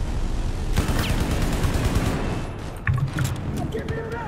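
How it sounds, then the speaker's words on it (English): Light machine gun suppressing fire in the video game Battlefield 4 forms a dense, continuous burst of loud rapid shots and booms, dropping into scattered distant gunfire toward the end. "Yeah, suppressing fire."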